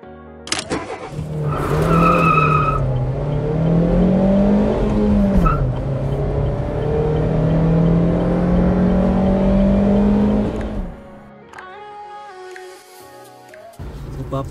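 A Honda Brio's engine drones steadily as the car drives, its pitch rising and falling with the throttle for about ten seconds before cutting out, with a brief tonal sound starting again at the end.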